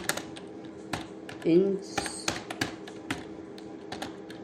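Someone types on a computer keyboard, entering an HTML heading: scattered, fairly close key clicks in an irregular rhythm, with a brief louder burst of clatter partway through.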